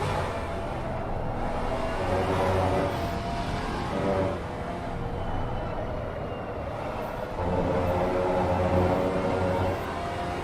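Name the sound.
Maserati GT4 race car engine in sim racing video game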